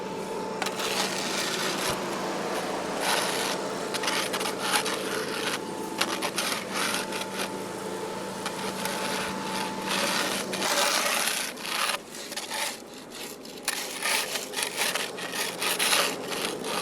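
Regular shovels scrape oil off an asphalt parking lot. Rough, grating strokes come close and loud in irregular bursts, some long and drawn out, with short pauses between them.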